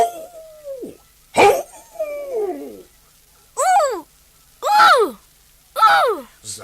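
A voice imitates a dog whimpering and howling instead of barking, giving a string of loud, separate wails and yelps broken by short silences.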